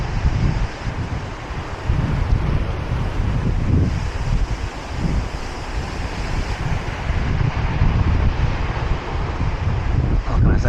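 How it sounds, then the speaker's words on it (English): Sea waves wash onto the Brighton shore in a continuous loud rush, with wind buffeting the microphone and the surf swelling and receding close by. "listen to the waves"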